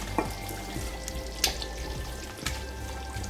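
Fish going into a frying pan of Congolese fumbwa brings a steady close sizzle and frying hiss, with a few sharper splashy crackles and stirring clatters and no talk.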